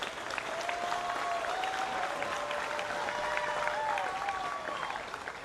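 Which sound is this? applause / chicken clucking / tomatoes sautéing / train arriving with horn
applause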